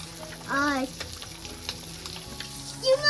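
Prawns and fish shallow-frying in a pan, a steady sizzle throughout, with brief bursts of a voice at the start and end.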